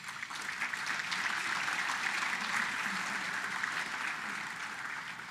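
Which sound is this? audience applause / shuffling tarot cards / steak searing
audience applause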